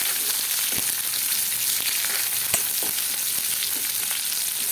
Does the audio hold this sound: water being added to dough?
no